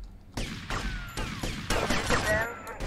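A tank cannon in GTA Vice City fires a series of heavy booming blasts, about five or six at irregular intervals, each a sharp loud burst with rumbling decay over game noise.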